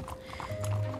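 Rhythmic clip-clop of horse hooves at close range, with a brief whinny-like tone, in a short scene from the game RedM with no talking.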